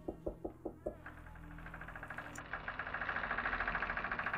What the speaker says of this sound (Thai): เสียงเคาะห้องดังทีที